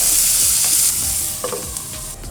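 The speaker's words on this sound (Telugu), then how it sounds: "మూత పెట్టుకొని బీరకాయని లో ఫ్లేమ్లో చక్కగా వేగనిద్దాం" Ridge gourd peel frying on a low flame, a loud hissing sizzle up close with soft stirring scrapes, easing slightly toward the end.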